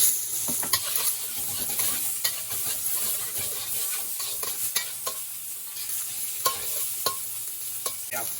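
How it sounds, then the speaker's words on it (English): Loud, close sizzling of shrimp frying in a hot wok, with frequent sharp scraping clicks of a utensil stirring throughout. "We are pan frying the shrimp right now"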